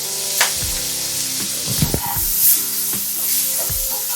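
Chicken liver mixture sizzles and fries steadily in a pan for a Sri Lankan chicken liver curry, with a few soft clinks and stirring scrapes breaking through the continuous close hiss.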